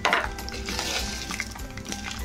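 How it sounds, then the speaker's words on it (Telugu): Peanuts frying in hot oil in a pan for raw mango pulihora, with a steady sizzle and scattered stirring clinks from a spoon against the pan. "పల్లీలు కొంచెం వేగినట్లున్నాయి"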